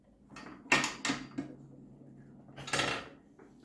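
The table of a Parkside PTBM 500 E5 bench pillar drill is being adjusted: a few sharp metallic clunks and knocks, close and fairly quiet, with pauses between.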